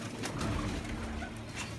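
Soft, low cooing of a grey pigeon, a gentle rolling call heard fairly close over faint background noise.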